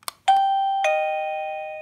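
An Esonstyle wireless doorbell gives a clear electronic ding-dong after a soft click: two bright chime tones, close and moderately loud, ringing out slowly in quiet.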